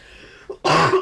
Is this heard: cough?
yes